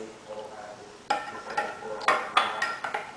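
Chili garlic sauce and soy sauce being stirred together in a bowl, a series of sharp utensil clinks and taps against the dish, close and irregular.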